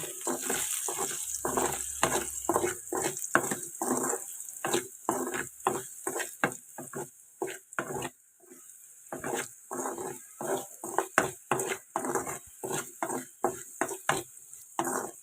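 Salted potato pieces stirred in a pan, a long run of rhythmic scraping and clattering strokes, close and fairly loud, with a brief lull partway through and no talking.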